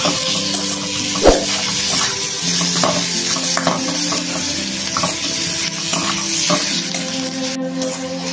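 Onions fry in a pan for a Bengali mutton and potato curry, a loud, steady sizzle broken by scraping stirs and occasional clinks of the utensil, with no talk.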